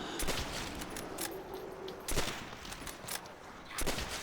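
Sniper rifle fire in the Call of Duty zombies map Nacht der Untoten, four sharp, loud single shots spaced about a second apart over a noisy game background.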